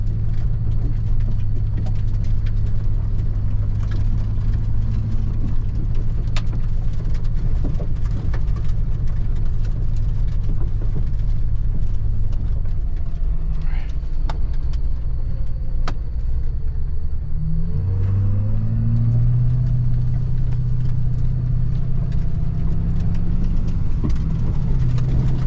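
A Ford F-350 diesel pickup carrying scaffolding crawls over dirt in four-wheel-drive low, a loud continuous low engine rumble with shifting drone and scattered ticks of flying dirt, no talk over it.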